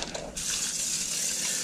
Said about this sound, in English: So I'm going to rinse these off, and I'm going to bring it to my other bucket over here.